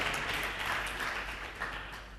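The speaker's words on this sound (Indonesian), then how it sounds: "kita berikan tepuk tangan untuk tim kontra" Brief, fairly faint applause from a student law debate audience for the opposing team, a soft patter of hands over a steady low hum.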